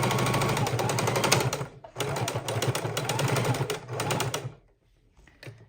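A sewing machine stitches a padded fabric bowl with thick batting in two fast, rattling bursts, a long run and then a second one, before stopping to near silence with a faint final tap.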